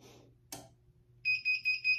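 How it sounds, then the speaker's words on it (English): A Vevor hat press running at 320 degrees signals the end of its countdown with four short, loud, high electronic beeps in steady rhythm, following a quieter stretch of handling noise and a brief clunk. "It's gonna count down, it's gonna beep and let me know when it's done."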